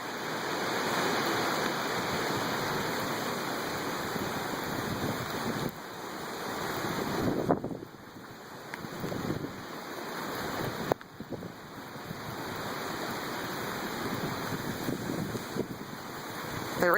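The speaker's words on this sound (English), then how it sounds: "Definitely getting more wind than we did for Gustav or Katrina." Hurricane Isaac in Ascension Parish, Louisiana: a continuous roaring wash of wind and pelting rain, gusting and dipping in waves with occasional sharp knocks, no voices.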